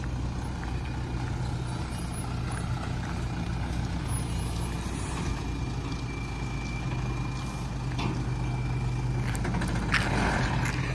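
A loaded truck maneuvers and turns around, its engine droning in a steady low rumble close by, with brief air-brake hisses and faint higher beeps near the end.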